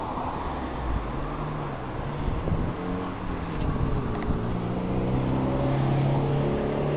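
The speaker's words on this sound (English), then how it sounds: "Apologize for all the traffic noise. Live on a busy street." Steady street traffic on a busy road beside a parked 1979 Ford Econoline 350 Quadravan, a continuous low rumble of passing cars that swells slightly toward the end, with no talk.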